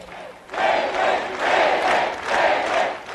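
A large crowd at a political event at New York City Hall cheers and roars in repeated swelling waves, loud and continuous, several surges rising and falling over about three seconds.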